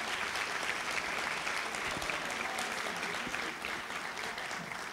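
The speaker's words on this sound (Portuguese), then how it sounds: "Queria puxar uma salva de palmas aqui aos presentes." Applause from the audience at a journalism congress tribute session, an even, sustained patter of many hands clapping, fairly faint and distant, with no voices over it.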